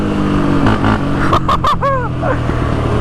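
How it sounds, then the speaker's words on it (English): A four-stroke Can-Am DS450 ATV engine exhaust rumbles steadily nearby, with a few quick blips of the throttle partway through. "the exhaust doesn't sound too bad, because this is a 4-stroke"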